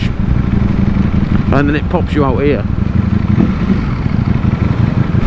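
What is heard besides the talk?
racing motorcycle riding the Isle of Man TT course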